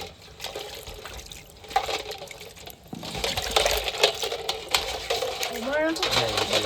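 Crabs and shrimp sloshed and scrubbed in a basin of water for a seafood dish, with water splashing steadily, close up under ongoing talk.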